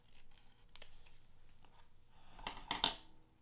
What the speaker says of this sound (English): So I will carefully cut this out.